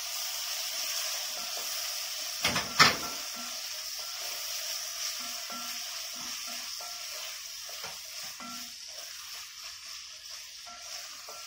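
Diced tomatoes hit vegetables sautéing in a pan, a steady soft sizzle running throughout with a brief louder stir or clatter near the start, no voices.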